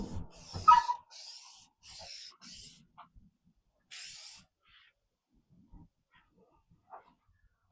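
An aerosol can sprays clear coat onto a car headlight in several short hissing bursts, the first ones fast and the longest one after a pause, with quiet handling noises in between.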